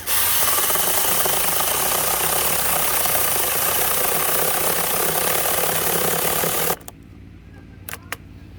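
A Bomves mini chainsaw with a 6 inch bar cuts steadily. A loud, continuous buzzing whir runs for almost seven seconds, then cuts off abruptly, leaving a few faint clicks and knocks.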